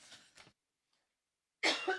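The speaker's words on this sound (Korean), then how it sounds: "속 시원하게 기침하십시오." A cough from a commentator during a Korean news talk show, with two short harsh bursts, a pause of silence, then a louder, broader burst close to the microphone.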